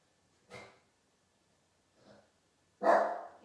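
A dog indoors gives three separate barks: a sharp one, a softer one a moment later, then a louder, longer bark, with silence between them.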